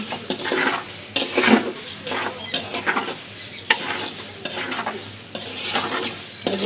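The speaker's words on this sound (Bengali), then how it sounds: "একটু ভেজে ভেজে নিলাম অলরেডি ভাজা ভাজা হয়ে গেছে" Food sizzles in a pan while frying rice, a utensil stirring and scraping against the metal in repeated strokes, close by, with no talking.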